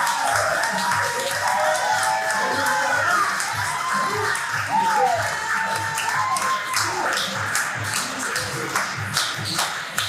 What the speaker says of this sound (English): please give a round of applause for all the improvisers